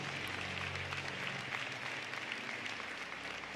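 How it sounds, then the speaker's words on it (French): A church congregation applauds during a praise and worship service, steady dense clapping that continues evenly throughout at moderate loudness. "Par l'Éternel, un bel applaudissement."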